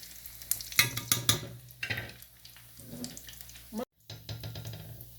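Bread rolls fry in a pan over medium heat, close crackling sizzle with stirring and scraping bursts, broken by a brief silent gap near the end.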